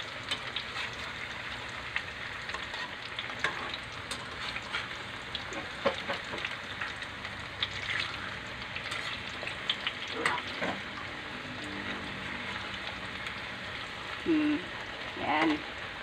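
Tortang sayote, a chayote omelette, fries in a pan after being flipped, giving a steady soft sizzle throughout with a few brief clinks and spatula scrapes near the end.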